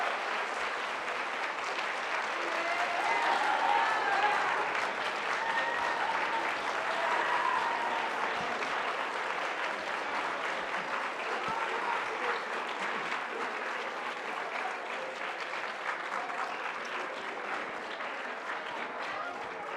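A conference audience applauds after a keynote speech on authentic leadership, a dense, steady wash of many hands clapping that holds for the whole stretch without pause.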